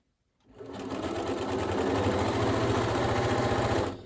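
A sewing machine runs fast and steadily while stitching a fabric mask with a filter pocket, giving a loud, close, rhythmic whir for several seconds before stopping.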